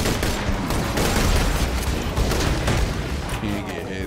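Rapid enemy gunfire in the Borderlands 2 co-op shooter, a dense, continuous rattle of shots with booming impacts that stays loud throughout without a pause.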